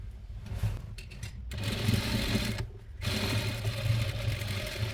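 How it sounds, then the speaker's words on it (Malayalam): A sewing machine hums steadily as it stitches over the folded edge of a nightie, stopping twice for a moment before it starts again. It sounds close and fairly quiet, with no talking. "ഇനി ഇതിന് മുകളിലൂടെ ഒന്ന് അടിച്ചു കൊടുക്കാം"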